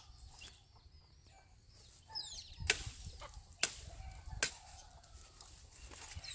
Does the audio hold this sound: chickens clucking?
yes